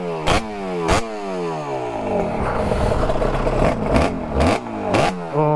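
Suzuki RG500 four-cylinder two-stroke motorcycle with four separate exhaust pipes revving close by, rising and falling engine sweeps punctuated by sharp blips and crackles, with no talk.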